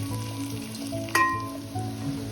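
Onions and green chillies frying in a pan, a steady sizzle with a low, rumbling bed of hiss and one sharp clatter about halfway through, close up with no voices.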